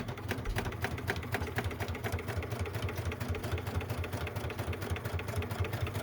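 A sewing machine stitches a fabric bag with a steady, fast, rhythmic mechanical whirr that runs evenly and close by, with no talking.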